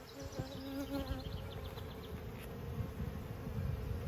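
A steady, close swarm of honeybees drones and whines during an open hive inspection, with a constant buzzing bed and a few brief higher-pitched tones rising above it.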